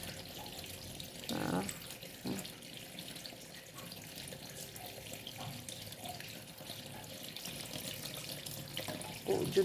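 Water runs steadily in a provincial river, a soft continuous flowing wash that stays faint and fairly even, with a few brief louder splashes and no voices.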